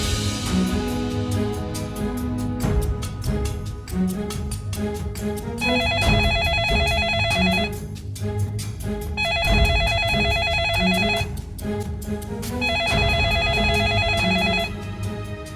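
A telephone rings in three repeated bursts of bright electronic trilling, each lasting a couple of seconds, layered over dramatic background music in a household scene.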